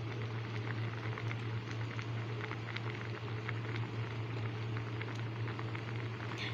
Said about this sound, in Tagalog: Kumukulo-kulo na siya.